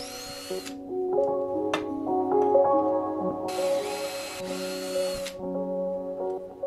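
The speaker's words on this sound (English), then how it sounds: "drill a hole through the block for the wires to go through" A power drill bores a hole through a wooden block cut to size for a DIY microphone body, its close, loud whine rising and falling in pitch as the bit bites and frees, with no talking.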